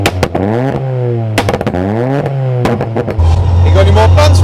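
A 600bhp nitrous-injected rear-wheel-drive Ford Escort Cosworth with a MAS tuning exhaust, heard close up, with its engine revving in repeated rising and falling sweeps and sharp pops between them, then settling into a steady, deep drone.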